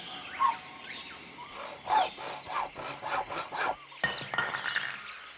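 Bird-like chirps are made by working a saw at an Epcot exhibit: squeaky, rasping strokes rise and fall in a quick uneven rhythm, fairly close but soft, with no speech.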